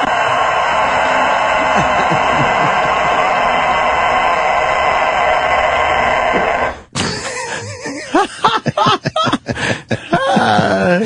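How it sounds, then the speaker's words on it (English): A rooster crows amid broadcast radio audio: a long, steady, bright crowing tone holds for several seconds, then cuts off abruptly into choppy, laughing talk from studio hosts. "Yes, that is a fucking rooster."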